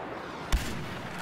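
A single sharp sniper rifle shot in Star Wars Battlefront, a loud close crack with a short booming tail, standing alone against quiet game ambience.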